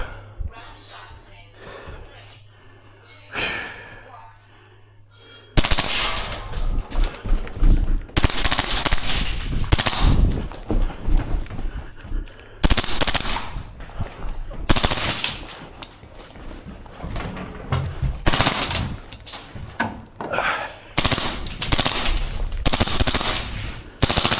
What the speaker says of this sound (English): I'm gonna do some full auto.